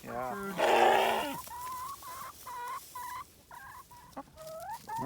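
Farm chickens cluck and squawk in a short, uneven series, close and fairly clear, while a person talks loudly at the start and birds call throughout.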